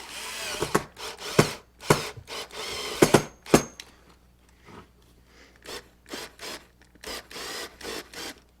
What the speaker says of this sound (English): With the screwdriver, this is where these come in really nice and handy. Just get those bolts started.